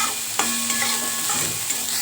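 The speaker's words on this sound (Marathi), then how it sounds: "हे पहा, हा कांदा छान असा भाजून घेऊया, सोनेरी कलर येऊपर्यंत." Chopped onion sizzles and fries in a hot pan while a spoon stirs it in short scraping strokes, a steady close hiss with a few sharper clinks.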